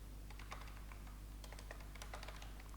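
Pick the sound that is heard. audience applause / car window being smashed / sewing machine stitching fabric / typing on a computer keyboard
typing on a computer keyboard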